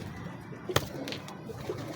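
Pigeons in a backyard pigeon-keeping loft give soft, low coos that sit faintly under steady background hiss, broken once by a sharp click.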